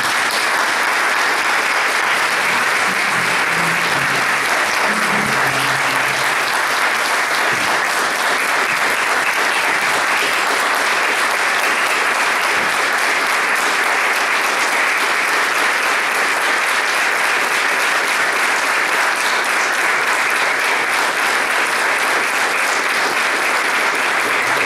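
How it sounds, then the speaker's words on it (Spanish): Sustained audience applause offered as a tribute at a law conference on damages, a dense, steady wash of clapping from a large crowd that holds at an even level throughout with no talk over it. "Queremos brindarle, para comenzar, un emotivo y un fuerte reconocimiento aplauso"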